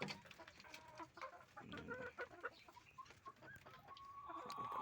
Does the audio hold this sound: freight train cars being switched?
no